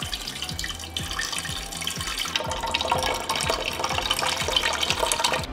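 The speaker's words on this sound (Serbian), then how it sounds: "sada ću tečnost presuti u šerpu i nosim na šporet da proključam" Liquid pours steadily from a jar into a cooking pot with a running, splashing wash and faint clinks and taps against the vessel, continuous and close throughout.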